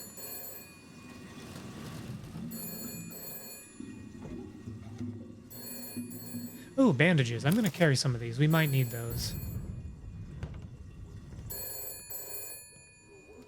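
Telephone ringing in the detective game Shadows of Doubt, sounding repeatedly in short bursts over a low background drone, while someone talks and a louder warbling sound briefly cuts through midway.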